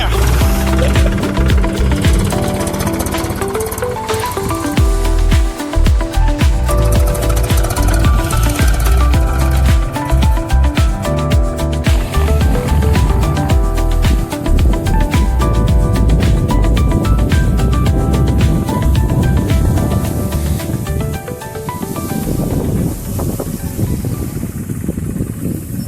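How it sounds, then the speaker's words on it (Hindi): A farm tractor runs steadily in a field during crop preparation, its loud, continuous engine chugging close by with a rattling rhythm throughout and no voices. "ये हमारा ट्रैक्टर चल रहा है"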